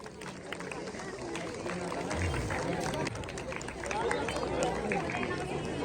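Steady applause from a village audience at a community education meeting, honoring children, hands clapping amid crowd chatter and babble that swells slightly toward the end.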